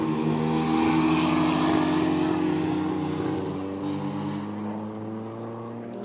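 Steve Clark's BMW drag racing car with a doll head on the roof, its engine droning steadily with strong low harmonics at a 1-on-1 drag event, loud and continuous, easing slightly toward the end with no talk.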